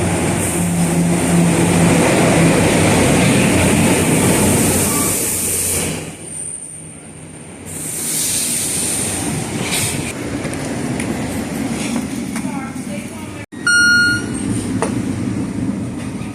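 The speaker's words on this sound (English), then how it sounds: "So we're on this train to Hackettstown" A commuter train bound for Hackettstown rumbles loudly from inside the car, its steady roar dipping for a stretch before returning, then a sharp clunk followed by a few electronic chime tones.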